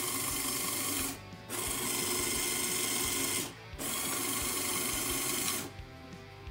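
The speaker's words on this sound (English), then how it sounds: "if I get this turning, can see that this valve here is moving the short distance and then stopping whilst the motor still goes" A LEGO motor drives gears that push a valve back and forth, making a loud, continuous whirring grind near at hand. It cuts off briefly three times, then resumes.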